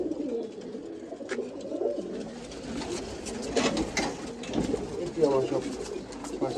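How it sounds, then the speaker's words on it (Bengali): Pigeons coo repeatedly at close range, with soft, throaty calls overlapping in a steady murmur throughout. "মাশাআল্লাহ প্রত্যেকটা কবুতরই অনেক সুন্দর।"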